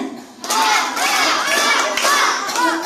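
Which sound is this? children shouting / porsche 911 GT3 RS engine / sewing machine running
children shouting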